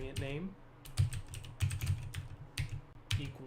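Close, fast clicking of keys on a computer keyboard, in irregular clusters of taps, while a person talks over it.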